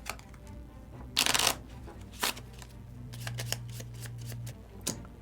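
Cards for a Gloomhaven board game being shuffled up close in crisp riffling bursts, with scattered clicks and handling noises between them.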